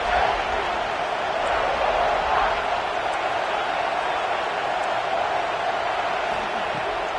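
A stadium crowd at a college football game involving Ole Miss keeps up a constant roar. The noise stays dense and sustained throughout, with no distinct individual cheers standing out.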